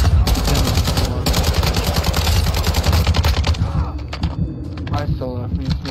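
Dense rapid gunfire in a multiplayer shooter video game, loud and continuous at first, then thinning into scattered shots, with players talking over it.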